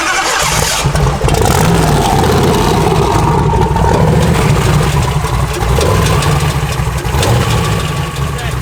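A Dodge Duster drag car engine runs loud and close, idling unevenly with a rough, pulsing rumble that wavers throughout, with a noise from cylinder number 2; a voice speaks faintly beneath it.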